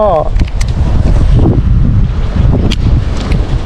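Rough, buffeting wind rushes across the microphone with a broad wash of rain noise beside a canal, while a voice talks loudly over it.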